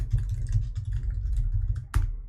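Rapid clicking keystrokes on a computer keyboard as a page name is typed, a steady close patter of taps with one sharper key strike near the end, over a constant low hum.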